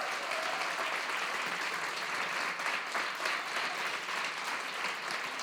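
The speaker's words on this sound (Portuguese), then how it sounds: "Vamos dar um aplauso a estas pessoas." Steady applause from an audience at a church women's conference, a dense even clapping that stays at constant level for several seconds without voices.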